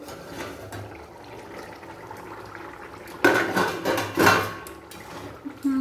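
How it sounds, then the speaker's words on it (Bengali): A lid comes off a wok (kadai) of simmering chicken curry over medium heat: soft bubbling background, then a burst of clattering metal and rising steamy noise, close, with no speech. "কড়ার ঢাকনা খুলে দেব।"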